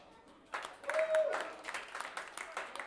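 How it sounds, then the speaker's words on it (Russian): An audience applauds a salsa band at a concert, the clapping breaking out loud and steady and continuing over the remaining seconds with a voice over it. "Ваши аплодисменты."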